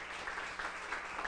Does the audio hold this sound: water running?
no